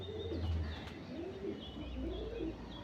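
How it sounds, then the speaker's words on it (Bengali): A Panjabi Malwai pigeon coos close by in soft, repeated rolling phrases, low and throaty, with faint chirps from other birds in the background. "এটাকে রাজনবালা বলা হয় এই পায়রাকে।"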